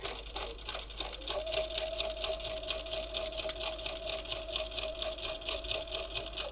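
A sewing machine stitches soft fabric for a junk journal cover, a close, steady rapid chatter of needle strokes with a thin whine running underneath through most of the stretch.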